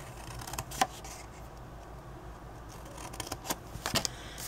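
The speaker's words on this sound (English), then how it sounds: "You're going to cut on this score line, meet up with the next" Scissors snip paper along a score line while a Halloween coffin treat box is being made, a few quiet, sharp cuts near the start and a cluster of quick snips toward the end, over a hushed room.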